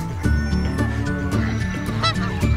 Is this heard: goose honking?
yes